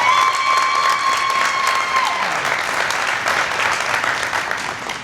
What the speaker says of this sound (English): Let's hear it for Nate Hall.